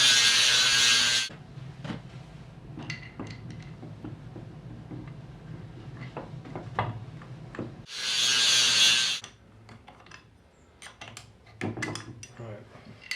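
Trimming a brake caliper to fit during a Series Land Rover restoration: two bursts of loud grinding alternate with rattling, scraping and knocking of metal parts and tools in a workshop.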